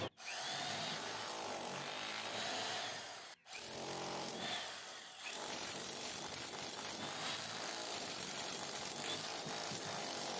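A Hilti breaker hammer chips at concrete in rapid, grinding bursts, with a short pause early on before the hammering resumes louder and continues steadily.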